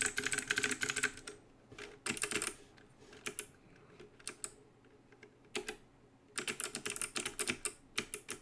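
Bursts of fast keystrokes clatter on a custom mechanical keyboard fitted with red switches, loud and close, broken by short pauses between typing runs.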